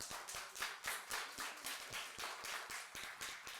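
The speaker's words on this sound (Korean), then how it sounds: "다시 한번 반기문 사무총장님께 큰 박수 부탁드립니다." Quiet, distant clapping for Ban Ki-moon at a closing ceremony of a climate and environment leadership course, a small group of hands patting unevenly at low volume.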